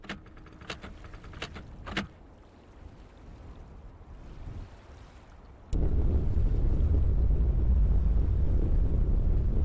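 Wind sound in the video game Myst (2021), a loud, dense, steady roar that starts abruptly after some scattered clicks and quieter ambience and then blows continuously.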